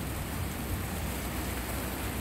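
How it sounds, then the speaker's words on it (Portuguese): Steady rain falls in a continuous, even hiss that never pauses, with no voices or other sounds over it. "E a chuva me pegou aqui agora, olha."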